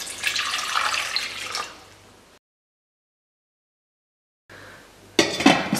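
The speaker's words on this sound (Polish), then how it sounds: "i dodaję litr wody" A litre of water pours into a pot in a home kitchen for żurek, a steady splashing rush that ends, then a short silence before clattering and water noise resumes near the end.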